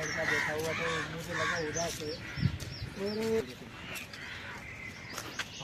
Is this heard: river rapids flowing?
no